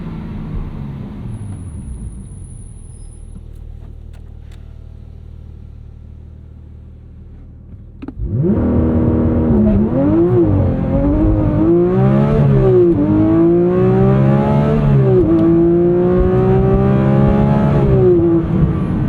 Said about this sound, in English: Let's go track mode and show you a quick 0 to 60 here.